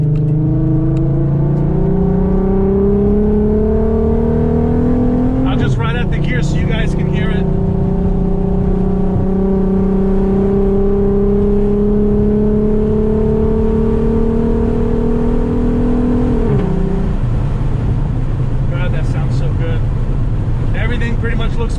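Audi RS3 fitted with a built R30 VR6 engine pulls away and accelerates, its harmonic drone rising steadily through the gears with a shift partway through, loud and close from inside the car, with brief bursts of higher noise over the engine.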